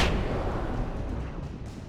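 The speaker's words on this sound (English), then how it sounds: "Thank God for flashbangs" A flashbang bursts in the Alan Wake video game, a loud broadband blast at the start that decays into a long rumbling tail, fading over a couple of seconds.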